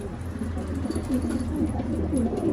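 Pigeons coo softly and repeatedly, low rolling calls rising over a steady background hum, close by and moderately quiet.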